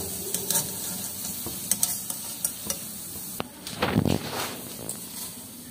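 Gulab jamun balls fry in hot oil with a steady sizzle as a spoon stirs them, giving a string of clicks and scrapes against the pan and a louder burst of stirring near the end; no voices.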